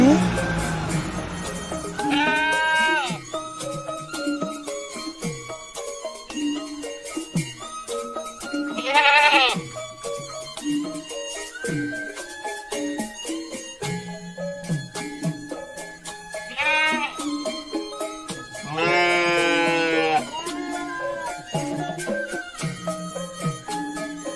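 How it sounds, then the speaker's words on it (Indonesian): A sacrificial goat bleats several times in a cartoon scene, its wavering cries rising loud and close among a busy musical and voiced soundtrack. "ini saya mau nitip kambing kurban buat besok ya"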